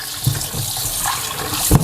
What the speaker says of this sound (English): So I use nice cold water to rinse and wash.